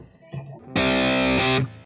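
An electric guitar runs through a Waves GTR3 amp simulation with light tube-screamer-style overdrive. A few soft notes lead into a loud, sustained, gritty chord that rings for close to a second before cutting off.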